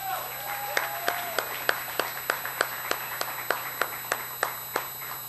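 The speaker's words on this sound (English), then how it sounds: "One more round of applause, though." Sparse, evenly spaced claps ring out at a poetry reading, a dozen or so sharp hand strikes over a faint voice, thin rather than a full crowd ovation.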